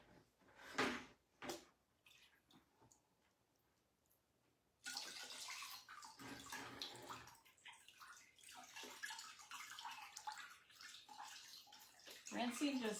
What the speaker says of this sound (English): Rinsing just takes off any excess paint and any of the size that may have come out of the tank with it.